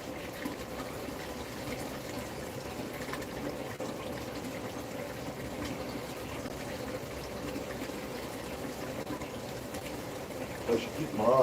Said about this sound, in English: A little bit of water from up here will drain down.